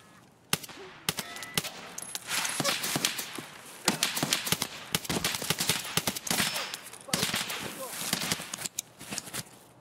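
Rapid bursts of automatic gunfire from a player emptying a full magazine in the video game Escape from Tarkov, loud, dense and sharp cracks repeating for several seconds, with a voice talking over them.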